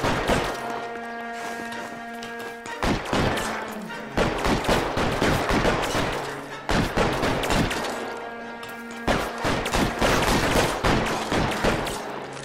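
Rapid bursts of gunfire in LA Noire ring out in dense, repeated volleys over a low musical drone, with short pauses between clusters of shots across the whole stretch.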